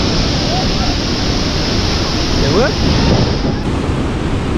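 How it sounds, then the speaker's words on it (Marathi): Strong ocean waves roll onto a beach in Ratnagiri on a rainy day, a loud, continuous roar of surf blended with wind buffeting the microphone throughout. "मजबूत लाटा येतात आहे समुद्राच्या किनारी"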